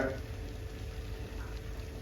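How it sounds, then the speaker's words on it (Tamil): A pot of Kanchipuram-style yogurt curry bubbles and simmers steadily, a continuous soft sizzling hiss with no voices. "நல்லா கொதிக்குது"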